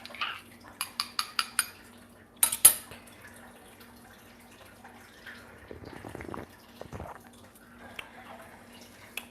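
A spoon clinks and taps rapidly against a small cup as an espresso shot made on a Gaggia Classic Pro or Quick Mill Silvano is stirred, a brisk burst of metallic rattles followed by quieter handling sounds.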